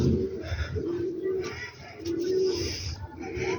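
Highflyer pigeons in a cross-breeding setup, cooing in repeated soft, throaty phrases up close, with someone talking quietly in the background.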